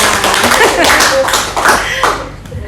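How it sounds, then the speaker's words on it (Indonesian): A group applauds together, a dense burst of clapping from many hands that fades toward the end, with a voice speaking over it. "tepuk tangan untuk kita semua"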